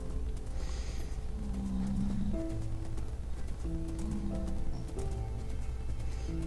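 A horse in Minecraft clip-clops along at a steady walking pace, with faint hoof steps mixed under soft, sustained game music tones.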